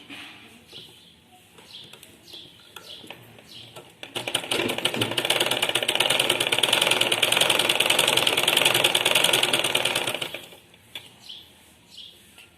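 A sewing machine stitching a keyhole neckline starts after quieter handling noises and runs in one loud, continuous whirring burst of about six seconds, then stops, leaving faint rustling.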